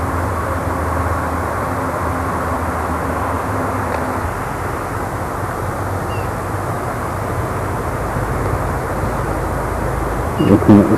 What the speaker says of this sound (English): The noise in the background is of the A1M motorway.